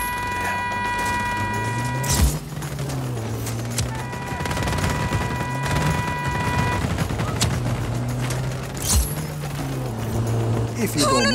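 Sustained bursts of automatic gunfire in the Just Cause 4 video game, set in a warzone, rattling over a steady vehicle engine drone and background music, with sharp loud blasts near 2 and 9 seconds and voices talking.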